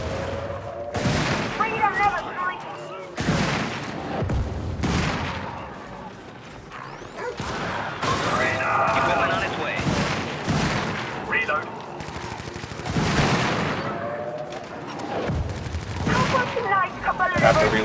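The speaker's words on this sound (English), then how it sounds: "Gotta shoot the patrols." Repeated bursts of automatic gunfire and booming shots in a video game firefight against enemy patrols, loud and close, with speech faintly under the shooting.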